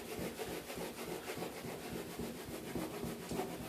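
A rag rubs glaze across a wall for an elephant skin faux finish, making a steady, close, continuous rasping swish with no talk.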